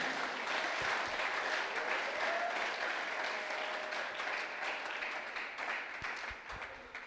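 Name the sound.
church congregation applauding to acclaim the Lord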